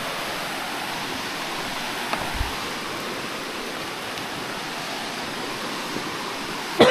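A deep river swollen by a night of flooding rushes past in a steady, loud, continuous roar of churning water, with only a faint knock or two near the end.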